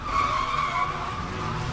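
In Need for Speed Carbon, a Mazda RX-7 doing donuts makes a sustained, loud tire squeal over a rumbling engine, close and continuous for under two seconds.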